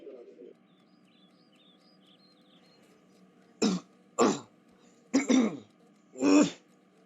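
A woman coughs four times in quick, harsh bursts, close and loud against a quiet room, with a short stretch of soft background sound before the first cough.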